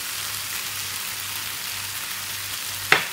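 Curry leaves sizzling in hot oil in a pan for mutton liver fry, a steady close crackling hiss that ends with a sharp clink near the end, no talk.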